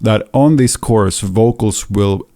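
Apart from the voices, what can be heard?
No everyday noise stands out behind the speech.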